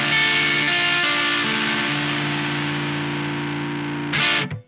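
Electric guitar on its neck pickup driven through a Boss OD-3 overdrive pedal, sustained distorted notes ringing out loudly and evenly, then a short burst of brighter attack before a quick cutoff.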